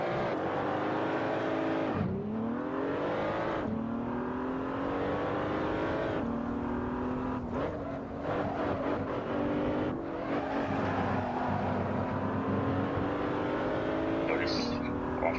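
A race car engine in Assetto Corsa on PS4 revs and shifts repeatedly under steady acceleration, with rising whines broken by gear changes and faint tire squeal, while a person talks over it.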